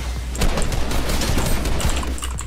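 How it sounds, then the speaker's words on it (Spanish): Shotgun blasts from the video game Fortnite, a loud, dense burst of gunfire with sharp repeated reports over a constant low rumble, heard alone with no talking. "yo sé que esa escopeta me puede abrir el pecho de uno solo"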